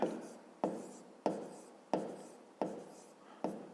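Six separate handwritten strokes as numbers are written on paper, each a sharp scratchy onset that fades, spaced roughly evenly and heard alone at close range.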